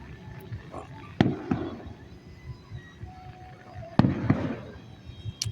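Fireworks burst at a Nashville Shores display, two sharp loud bangs a few seconds apart, each trailing into crackling and rumbling echoes against a quiet outdoor background.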